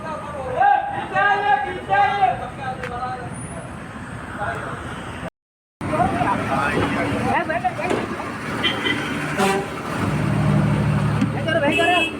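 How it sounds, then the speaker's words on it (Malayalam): A bus reverses onto a road near the Vadanamkurissi overpass. Its engine rumbles steadily beneath loud nearby talk, with traffic noise throughout and a brief dropout midway. "നമ്മുടെ ബസ് റിവേഴ്സ് വന്ന് വന്ന് പെട്ടെന്ന് നമുക്ക് റോഡിലേക്ക് കയറാൻ പറ്റിയിട്ടോ"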